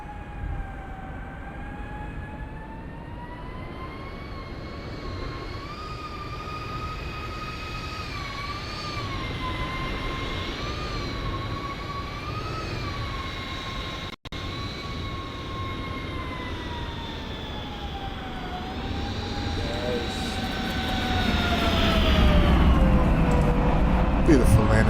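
A PMDG 737-8 airliner landing in Microsoft Flight Simulator 2024, heard as a loud, steady engine roar with whining tonal layers that shift in pitch, then a louder, rumbling rush near the end as it touches down.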